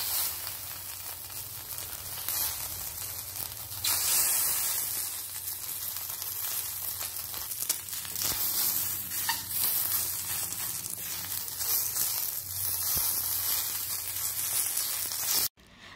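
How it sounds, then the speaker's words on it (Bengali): Fish pieces fry in ghee in a kadai, a steady close-up sizzle with fine crackling and spitting that holds evenly throughout, alone without voices, then cuts off abruptly near the end. "মাছটাকে এপিট ওপিট হালকা করে ভেজে নিতে হবে।"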